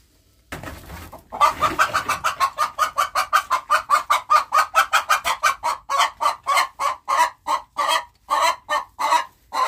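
A hen clucks rapidly and rhythmically, dozens of sharp close cackles in a steady run that gradually slows toward the end.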